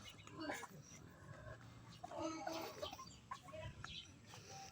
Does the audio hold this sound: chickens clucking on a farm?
yes